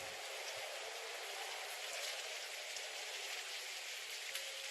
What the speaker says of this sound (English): Oh, and it starts raining, of course.